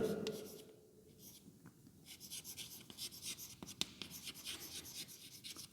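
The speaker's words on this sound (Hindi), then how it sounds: "हम यहाँ पर लिख दें प्रेसिपिटेशन।" In a biology lesson on DNA isolation, a word is written by hand with a pen, giving quick, scratchy strokes close to the mic in a busy run, with a voice heard briefly at the start.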